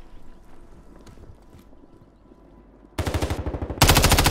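Automatic weapon fire in Call of Duty Warzone, quiet background rattle at first, then two loud close bursts of rapid gunshots near the end.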